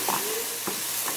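A spoon stirs tomato and herbs in a frying pan, giving a soft steady sizzle broken by a few brief, quiet scrapes, with no voices.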